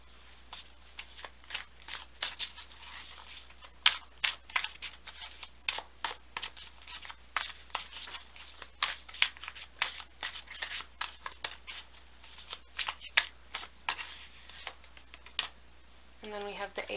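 Tarot cards being shuffled during a card reading, producing a series of quick riffling and tapping bursts spaced irregularly, fairly close and soft, with a brief rustle near the end.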